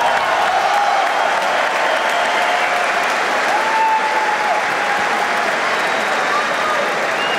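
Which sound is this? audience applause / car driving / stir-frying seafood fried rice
audience applause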